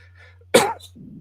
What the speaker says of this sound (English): Was that a shock cough?